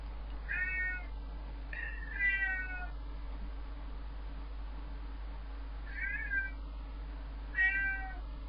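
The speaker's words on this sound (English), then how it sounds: "I don't know if you can hear that, but that's my cat." A cat meows several times, clear but not loud, in two pairs a few seconds apart over a steady low background hum.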